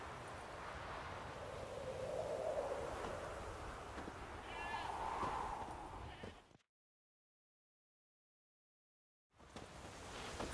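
A goat tied to a stake as forktail bait in a fantasy video game bleats several times, wavering calls over a low ambient bed, then the sound drops out briefly before resuming.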